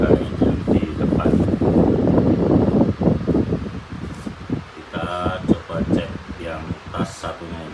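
An electric fan blows steadily on a washed Fjallraven Kanken bag to dry it, giving a loud, continuous airy rush with rustling; the noise eases off later while fabric handling and bumps join in.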